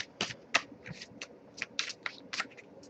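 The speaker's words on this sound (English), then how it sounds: "I'll give it a couple more shuffles" Tarot cards are shuffled up close in quick, crisp bursts of riffling and flicking, irregular snaps and rustles against a quiet background.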